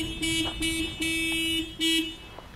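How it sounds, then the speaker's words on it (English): A car horn or alarm honks in repeated short blasts, about five bursts with brief gaps, loud and steady with no talking. "can please someone just stop with that honking?"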